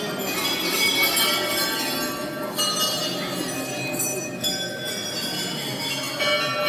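Temple bells at Haleshi Mahadev in Nepal ring continuously with bright metallic clangs layered over a dense crowd wash, loud and sustained throughout.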